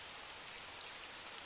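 Steady rain falling outside a florist shop, a soft, even hiss of drops on surfaces with faint scattered patters throughout, fairly quiet and unbroken, with no voices.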